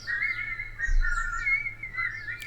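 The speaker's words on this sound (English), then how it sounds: "Those are some very well-trained birds." Cartoon birds chirp and whistle in quick, rising and falling trills over a soft low hum, moderately loud and close, with no talking.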